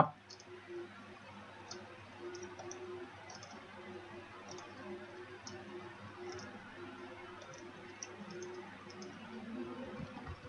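A computer mouse clicks sparsely, about a dozen faint, sharp clicks spread irregularly over a quiet room hum, with no voice.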